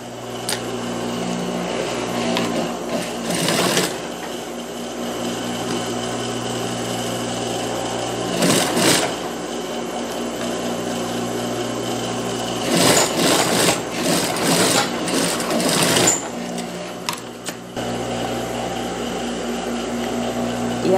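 A sewing machine stitches the center-back seam of a small child's dress in steady whirring bursts, with short pauses between runs and a louder stretch of fast stitching near the end.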